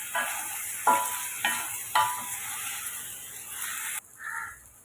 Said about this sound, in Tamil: உப்பு சேர்த்து இப்போ நம்ம வதக்கி விட்டுக்கலாம்